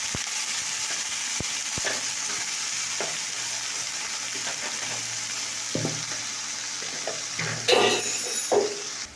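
Green beans, pointed gourd and potatoes fry in a pan after water is added, giving a steady loud hiss and sizzle with occasional clinks and stirring clatter near the end, with no talk.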